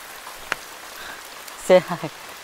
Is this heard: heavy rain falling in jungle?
yes